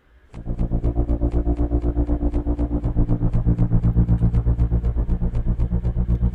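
A processed airplane sound, a droning engine-like roar with a steady rhythmic pulsing delay, repeating evenly throughout, loud and continuous with no voices.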